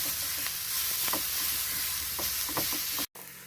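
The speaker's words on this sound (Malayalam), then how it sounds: "തേങ്ങ, ഉള്ളി, ജീരകം, ഈ അരപ്പിട്ടിട്ട് നല്ലതുപോലെ ഒന്ന് ചിക്കണം." A coconut, onion and cumin paste is stirred and sizzled in a pan, with a steady frying hiss and soft scraping strokes close by, cut off briefly near the end.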